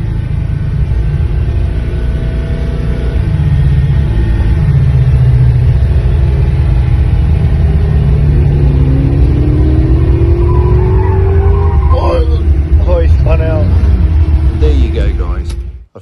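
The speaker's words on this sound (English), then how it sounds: "Now that's one badass power skid," Ford Falcon XE S-Pak with a 408 Cleveland V8 doing a power skid on tarmac, a loud sustained engine roar with rising and falling pitch, then tire squeal near the end, under crowd noise and voices.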